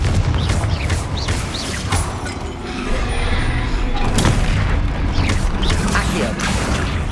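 Blasting fire spell going off in a Hogwarts Legacy battle against a troll, a series of loud booms and crashing impacts with rumbling debris layered over continuous combat noise.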